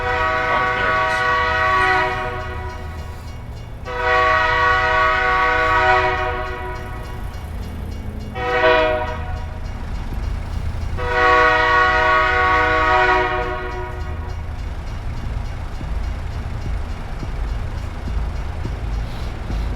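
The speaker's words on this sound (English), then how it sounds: "The heck's the train?" A freight train passes in American Truck Simulator, its horn blowing in three long harmonic blasts and then a shorter one, over a steady rumble of the train and truck engine.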